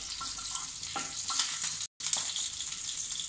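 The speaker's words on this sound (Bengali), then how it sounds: "এবার একই সাথে আমি দিয়ে দেবো কালো জিরে, দিয়ে কিছুক্ষণ নাড়িয়ে নেব।" Nigella seeds frying in a pan for a beetroot paste dish: a steady close sizzle with a few soft stirring scrapes, briefly cut off for a moment midway.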